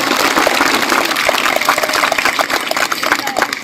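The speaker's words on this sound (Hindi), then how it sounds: "एक बार जोरदार तालियां हो जाने के लिए।" Loud, dense applause from an audience at a National Youth Day gathering marking Swami Vivekananda's birthday, sustained and steady for several seconds with a voice faintly over it.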